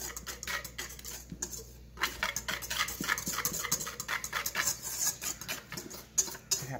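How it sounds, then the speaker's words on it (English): Cupcake batter with butter whisked in a bowl, a rapid busy run of close metal-on-bowl clicks and scrapes that continues throughout at moderate loudness, with no talking over it. "Now we're gonna mix this together. Whisk, whisk, whisk."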